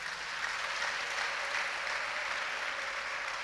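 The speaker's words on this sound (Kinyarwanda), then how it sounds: "munyemerere tuyikomera amashyi ko yabanye natwe" Church congregation applauding together, a dense, even wash of clapping that holds steady and moderately loud for a few seconds, no voices over it.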